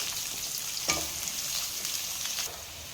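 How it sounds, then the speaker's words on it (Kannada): Onions frying in oil in a pan, a faint, even hiss of sizzling with a single sharp tap of a utensil near the start, heard alone without talk. "ಈಗ ಅದಕ್ಕೆ ನೀರುಳ್ಳಿ ಹಾಕಿ ಫ್ರೈ ಮಾಡಲಿಕ್ಕೆ ಉಂಟು"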